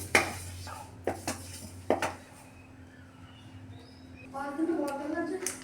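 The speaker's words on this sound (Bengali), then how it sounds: "এই তিলটাকে আমি শুকনো খোলায় ভেজে নিচ্ছি" White sesame seeds are dry-roasted in a pan, with a few sharp metal clinks and scrapes of stirring, then a quiet stretch and a voice talking near the end.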